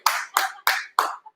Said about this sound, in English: Let's give these trees a big round of applause.